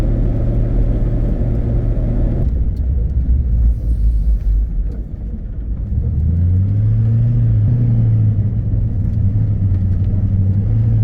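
A truck camper rolls along the highway on a clear day, the engine droning low and steady, dipping briefly before its pitch climbs again as it speeds up, heard close from inside.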